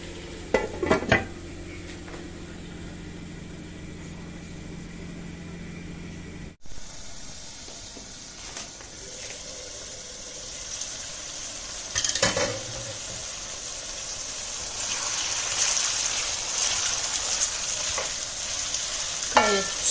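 Saç kavurma meat cooks with tomatoes in a pan, giving off a steady frying sizzle and hiss that builds gradually, broken by occasional clinks and scrapes of a utensil stirring against the metal.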